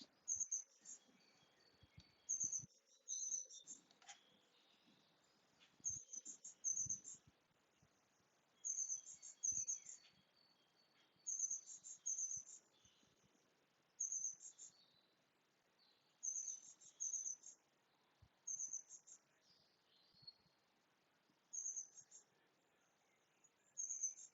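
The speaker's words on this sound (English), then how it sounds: "Notice the sound of the birds." Bright, high bird songs come in short repeated bursts every couple of seconds over a quiet outdoor background, with faint insect chirps between them.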